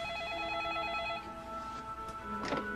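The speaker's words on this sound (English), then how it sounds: "Right about that instant, the telephone rang." A household telephone rings quietly for about a second, its warbling electronic tone sounding faint, followed by a softer chirp and a brief bump of household noise.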